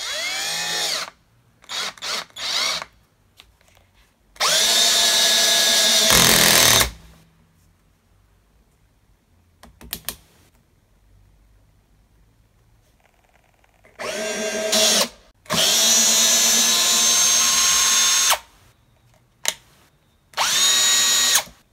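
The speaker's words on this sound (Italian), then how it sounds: "mettere questa vite da 7 cm in questo tacco di pallet, utilizzando l'avvitatore, ovviamente senza preforo" A cordless screwdriver drives a 7 cm screw into a pallet wood block without a pilot hole, with several loud, close motor whirs of two to four seconds each separated by silences, the last bursts cut short as the clutch slips.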